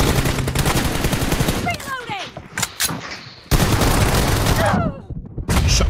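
Bursts of rapid automatic gunfire from the BGMI mobile battle royale game crackle loudly in sustained volleys, broken by short pauses with quieter bullet whizzes, while voices chatter faintly underneath.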